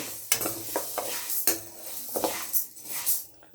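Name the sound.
roasting urad dal in a pan on low flame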